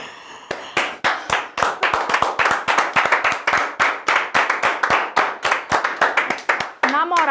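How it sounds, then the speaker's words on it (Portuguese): A single person clapping their own hands in a steady, fairly quick rhythm, close and sharp, about twenty claps in a row, with brief talking near the end. "Ele puxou palmas pra ele mesmo."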